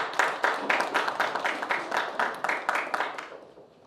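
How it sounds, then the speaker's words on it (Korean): Audience clapping at an academic conference of a Chinese studies institute at Korea University, a short burst of steady applause from a seated room that fades out near the end. "박수로 맞아주십시오."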